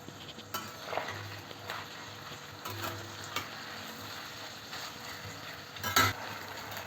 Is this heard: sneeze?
no